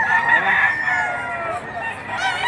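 A rooster crowing amid a busy livestock auction, a drawn-out, strained call heard fairly close over a background of crowd noise and other birds.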